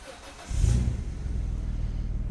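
A 2001 Renault Clio Sport with a 3.0L V6 cranks and fires up, its engine catching with a sudden loud burst before settling into a steady, close idle.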